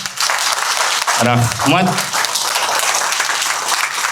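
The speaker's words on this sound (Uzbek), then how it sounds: "bitta chiroyli qarsaklar bilan boshlab olamiz tadbirimizni" Dense audience clapping fills a school celebration hall, a loud sustained patter of many hands that carries on evenly, briefly interrupted by a spoken word from the stage.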